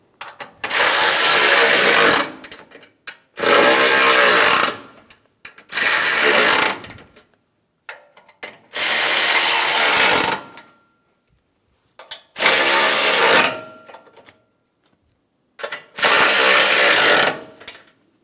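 A power tool runs down bolts on the bumper impact absorber of a 2013-2017 Honda Accord: six loud, rattling bursts of about two seconds each, with short silent gaps between them.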